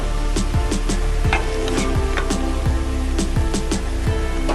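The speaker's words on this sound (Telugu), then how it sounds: "అందులో మనం కడిగి పెట్టుకున్న రొయ్యలు వేసేసుకుందామండి." Washed prawns frying in a kadai, a steady bright sizzle with crackling spatters and the repeated scrape of a spatula stirring, continuous and close.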